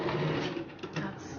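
A sewing machine stitches a kimono dress pocket in a quiet, brief, close burst of rapid mechanical whirring.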